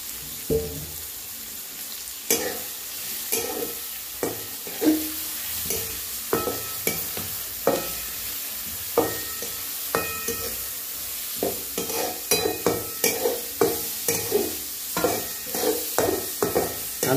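Onion fried together with ginger-garlic paste, green chilli, curry leaves and turmeric in a pan, a continuous sizzle broken by regular scraping stirs every second or so, close up and without talk.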